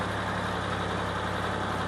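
A small farm tractor's engine idles nearby with a steady, rumbling low drone and a constant broadband roar, no talking over it.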